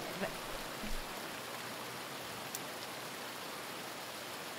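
Steady broadband rain hisses evenly throughout in the survival game Retreat To Enen, a soft continuous downpour with a few faint drips and brief knocks near the start.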